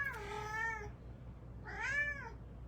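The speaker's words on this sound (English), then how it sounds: "The cat. She wants treats." A cat meows twice for treats, two clear drawn-out calls with a pause between them, close by and alone over a low steady background hum.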